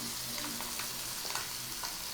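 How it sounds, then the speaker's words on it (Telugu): Eggs frying in a pan for an egg masala fry give a steady, moderately quiet sizzle and crackle. Occasional light scrapes are heard as they are turned, with no voices. "ఒక సైడ్ కాలిన తర్వాత మెల్లగా ఇంకో సైడ్ తిప్పుకోండి"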